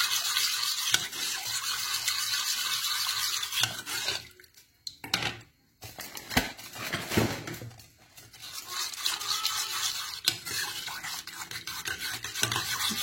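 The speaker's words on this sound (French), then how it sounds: "Il faut bien mélanger, sinon ça va faire des grumeaux." A spoon stirs a cornstarch mixture for a face mask in a pot on the stove, giving continuous close scraping and swishing that briefly pauses and then resumes.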